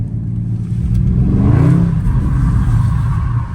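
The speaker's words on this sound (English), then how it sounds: "Boy, I tapped the gas one time, that must spin all the way around." A Dodge Charger Scat Pack revs on a wet, rainy road, the engine's deep rumble surging and whirring as the throttle climbs, loud and close with a steady low growl.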